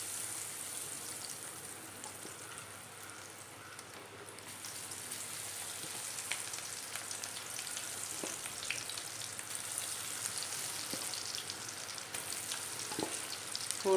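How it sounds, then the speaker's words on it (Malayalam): Marinated, half-cooked cauliflower pieces fry in hot oil for chilli gobi, giving a soft, continuous sizzle like light rain with occasional small pops. It is fairly quiet and steady, with no talking. "ഇതിനകത്തേക്ക് നമുക്ക് ഈ പുരട്ടി വെച്ചിരിക്കുന്ന കോളിഫ്ലവർ ഇട്ട് കൊടുക്കാം."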